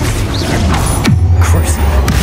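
Confringo blasting curse cast in the video game Hogwarts Legacy, a loud whooshing burst with a falling tone and booming low rumble, amid ongoing combat effects.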